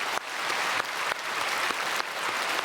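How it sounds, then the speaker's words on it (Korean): A church congregation at a Sunday worship service applauds the choir, a sustained, full wash of many hands clapping at steady loudness from start to finish. "우리 찬양대에게도 박수하겠습니다."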